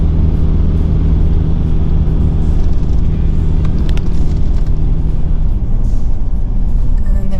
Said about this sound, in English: So we're actually driving through Womble Bank Station.